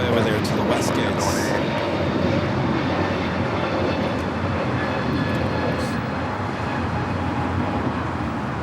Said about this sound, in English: KLM now making its way over there to the west gates.